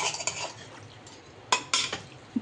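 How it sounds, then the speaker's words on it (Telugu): A spoon scrapes and clinks against a pot as masala paste is stirred into chicken biryani, giving a few quiet scrapes and then two louder bursts of metal contact close by. "ఇప్పుడు పేస్ట్ వేసాక మళ్ళీ మిక్స్ చేసుకోవాలి."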